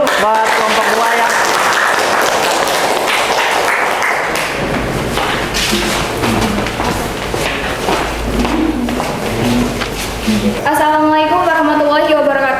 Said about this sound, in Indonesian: Ya, kasih tepuk tangan dulu buat kelompok 2 ya.